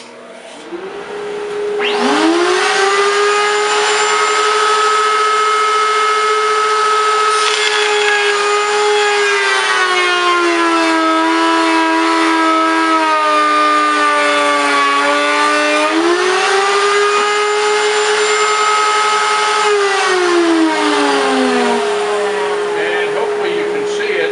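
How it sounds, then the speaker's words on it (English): A woodworking shop dust collector runs loud and steady, its whine holding pitch with a few dips and rises as it spins, while someone talks over it. "Whoops, dust collector."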